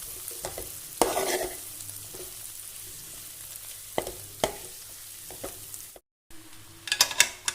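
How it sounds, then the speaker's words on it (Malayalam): Green gram is stirred with sautéed onions in a frying pan, a close soft sizzle broken by repeated scraping strokes of a spoon against the pan, loud at moments, with a brief dropout near the end before more brisk stirring. "അപ്പോൾ നമ്മൾ പയറെല്ലാം നല്ലതുപോലെ ഇളക്കി യോജിപ്പിച്ചുകൊണ്ടിരിക്കുകയാണ്"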